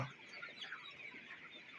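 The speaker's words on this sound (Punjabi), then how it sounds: "ਡਬਲ ਐਫ ਜੀ ਦੇਸੀ ਮੁਰਗਾ ਅੱਜ ਤਕਰੀਬਨ 28 ਦਿਨ ਦਾ ਹੋ ਗਿਆ ਹੈ" A desi rooster about four weeks old clucks softly and continuously among other birds on a poultry farm, a faint, busy chatter of overlapping calls heard from close by.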